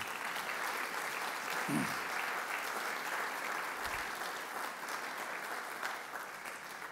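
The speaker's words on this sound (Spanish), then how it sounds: "Por favor, un aplauso para esta gente." Sustained applause from an audience at a Harvard lecture event, a steady wash of clapping lasting throughout, fairly even in level with a couple of brief low thumps.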